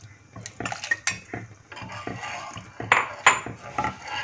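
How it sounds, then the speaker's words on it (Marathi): A spoon scrapes and clinks against a pot while ragi flour porridge, made with buttermilk and boiling water, is stirred continuously: irregular close metallic taps and scrapes in short bursts, with no talking. "एक सारख हलवत राहायचं नाहीतर तुटड्या होतात।"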